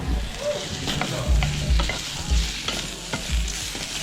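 Mushrooms fry in a pan with a steady sizzle, and a utensil stirs and scrapes them in irregular bursts, fairly close and without talk.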